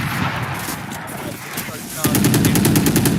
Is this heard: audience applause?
no